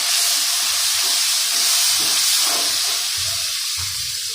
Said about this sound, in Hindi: फिर उसके बाद हमें थोड़ा सा पानी डालना है ताकि नीचे से मसाला जले ना